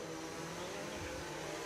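Race cars in a sim-racing league event at the Brazil circuit, engines droning continuously and loudly as the field sweeps into view, with no voices over the steady roar.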